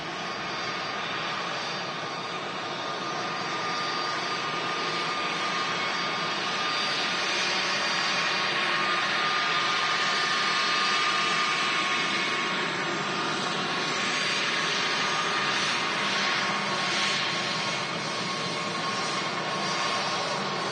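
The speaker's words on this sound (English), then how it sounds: "we got the brand new Jet2 321 Neo on the taxi out too" A Jet2 Airbus A321neo taxis at Manchester Airport, a steady broad jet engine roar holding at constant level throughout, with a faint high whine above it and no voices.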